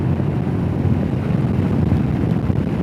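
Wind buffets the microphone while riding a Royal Enfield Himalayan motorcycle on a forest drive, a dense low rumbling roar that stays loud and unbroken, with no voices.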